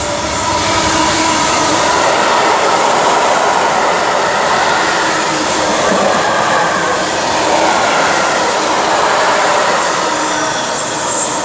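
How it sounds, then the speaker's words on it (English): A DB Cargo UK Class 66 freight locomotive hauling a steel train through Sandwell & Dudley on the West Coast Main Line, passing close with a loud, continuous roar of engine and rumbling wagons, wheels clattering throughout. "now approaching is going to be a DB Cargo UK Class 66"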